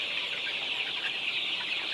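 Chickens on a poultry farm clucking faintly and softly against a steady hissy background, over a short stretch.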